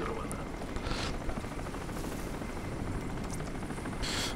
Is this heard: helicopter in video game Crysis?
yes